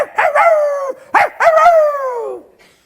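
A small dog, a chihuahua, gives high drawn-out yelping barks in two howling bursts, close and loud, each trailing off in a whine.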